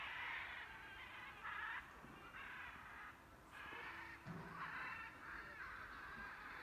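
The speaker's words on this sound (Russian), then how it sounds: "Попугаи себе там шумят." Harsh parrot squawks repeat in rough bursts, several calls overlapping in a noisy chorus at moderate distance near a zoo lion enclosure on a winter day, continuous for several seconds.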